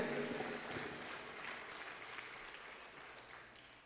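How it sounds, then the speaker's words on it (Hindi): Audience clapping at a Hindi kavi sammelan poetry gathering at a Dussehra fair, a dense wash of applause that stays steady and slowly fades over a few seconds, with faint background hum. "तो एक बार दोनों हाथ खड़े करके तालियां बजाइए"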